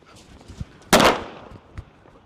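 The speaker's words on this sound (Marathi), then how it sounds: "ए सरका कडला मोठा फटाका आहे बर का" A big firecracker explodes once with a sharp loud bang that trails off into a brief rumble, with faint small noises before and after.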